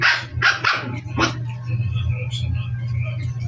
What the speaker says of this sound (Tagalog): Itong tatlong tuta ko,